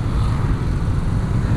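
Heavy stop-and-go traffic in a Bandung jam makes a dense, low engine rumble, close and steady with no breaks, and no voices over it.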